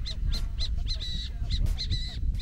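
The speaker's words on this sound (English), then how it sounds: "I think Graham might be harassing some birds" Agitated birds caw harshly in rapid, overlapping bursts near a beach camp spot in Peru, about a dozen loud calls packed into a couple of seconds, close by.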